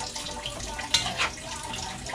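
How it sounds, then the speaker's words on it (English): Water runs and splashes steadily into a pot, a continuous pouring hiss with a couple of brief louder surges, no voices. "let's add some water"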